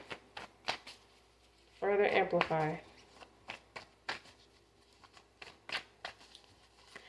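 Repeated soft tarot-card shuffling riffles with scattered taps, spread across the clip, while a voice speaks briefly in the middle.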